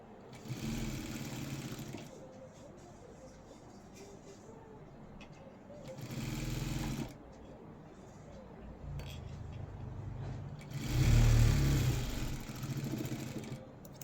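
A sewing machine runs in short stitching bursts while sewing the lining of a blouse, with louder runs at the start, middle and near the end. A voice talks throughout over the mechanical whir.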